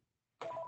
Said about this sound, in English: That's a phone call from my daughter.